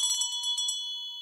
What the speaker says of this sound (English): I ring the servant's bell.